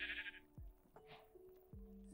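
Sheep bleating in Minecraft, a few short wavering bleats at low volume, spread across a couple of seconds against a faint game background with no talk.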